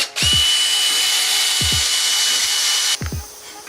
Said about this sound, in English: you tighten the drill or the chuck all the way, you go back one click, that locks your drill bit in